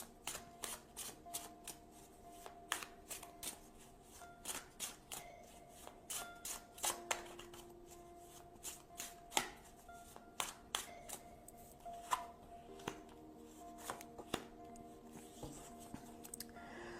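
A tarot deck shuffled and cards picked out by hand, with quick papery snaps and riffles up close, repeating steadily and without any talking.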